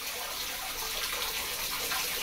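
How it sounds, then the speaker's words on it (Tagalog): Water runs steadily from an open faucet, a continuous hissing gush that stays at an even level for the whole stretch with no talk. "Naririnig pa lang yung gripo na nakabukas."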